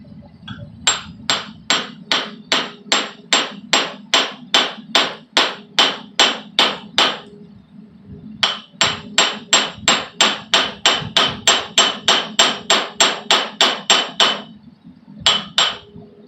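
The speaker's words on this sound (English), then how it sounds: "I'm gonna give that plug a gentle tap and see if it'll move it all first" Hammer taps on a plug in a small low-mass foundry furnace, a long run of evenly spaced, ringing metallic strikes, close and loud, pausing briefly midway before continuing, then a final short cluster.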